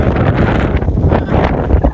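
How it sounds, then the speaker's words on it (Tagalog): Strong gusty wind roars across the microphone high on Mount Kjerag in Norway, a loud continuous buffeting that surges and swells throughout with no voices. "Lakas pa ng hangin."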